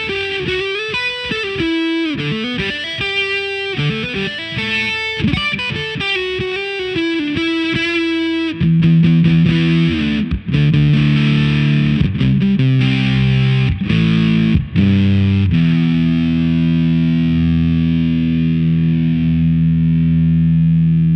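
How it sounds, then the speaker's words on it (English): An electric guitar runs through a 1904 distortion pedal set to a bass-boosted fuzz tone, playing a melodic lead line and then heavy sustained chords that ring out, loud and saturated. "I've called up a nice bass boost fuzz tone that helps give power to leads and chords."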